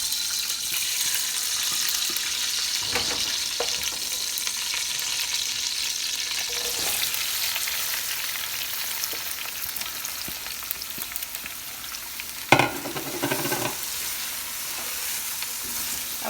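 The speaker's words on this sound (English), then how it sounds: "I'm just gonna be frying these onions till it's kind of a little bit soft." Onions frying in oil in a pan for an oil bean seed dish, a steady close sizzle running throughout, with a few brief clinks and stirring knocks partway through and a sharp clatter near the end.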